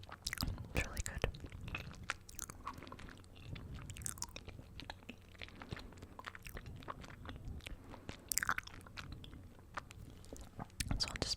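Close, soft chewing and biting on chewy boba tea, with small mouth clicks and crunches repeating steadily under quiet whispered talk.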